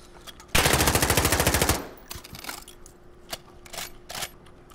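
A rapid burst of automatic gunfire in Call of Duty Warzone rattles loudly for about a second, followed by scattered single shots and clicks at lower volume.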